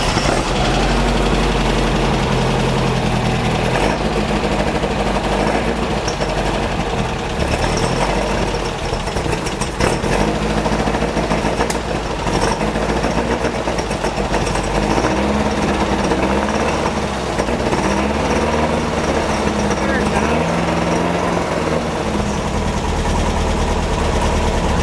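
Engine of a Beck 550 Spyder replica car running steadily, a loud, close, continuous idle with a rough, knocking edge and no talk.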